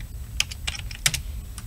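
Quick taps on a computer keyboard, a short burst of separate clicks at close range in a quiet room, no voices.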